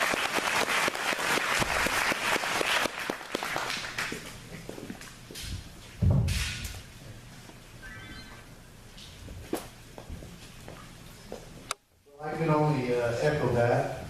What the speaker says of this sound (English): A round of applause for Sheriff Mack.